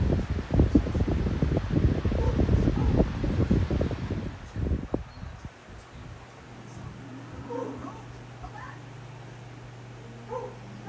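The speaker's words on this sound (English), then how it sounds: "for a first spin up, let's spin it down, and that'll tell us how heavy the blade is" A 12-inch high velocity fan with a dual ball bearing motor spins down: a loud, busy whooshing rush for about four seconds, then a quieter steady low hum that lingers to the end.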